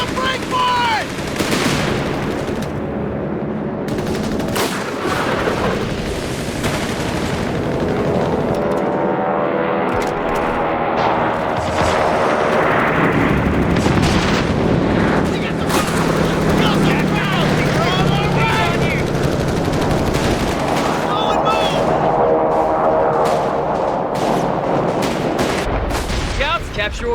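Long bursts of .30 cal machine gun fire mixed with booming artillery and other gunfire in a Company of Heroes 3 battle, loud and dense throughout, with soldiers' voices and radio chatter over the fighting.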